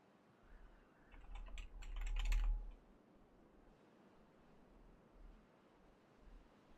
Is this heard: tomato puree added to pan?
no